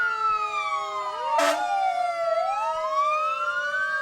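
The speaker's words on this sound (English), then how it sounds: "That second engine behind Tower 1 is thanks to Chief Conway from Bill Ricker" A fire engine siren wails in rising and falling sweeps at a 4th of July parade in Burlington, with a short horn blast partway through, loud and fairly close.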